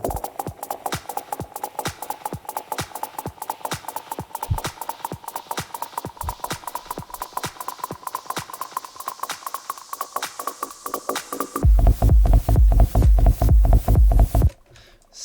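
Rolling techno minimal percussion run through a frequency shifter, a steady loop of sharp ticking hits with a slowly rising metallic tone, then heavier pounding kick hits in the last few seconds before it cuts out.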